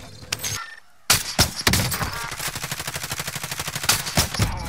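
Video game gunfire: a few scattered shots, a short silence, then a long, loud burst of rapid automatic fire with evenly spaced cracks, punctuated by heavier single blasts.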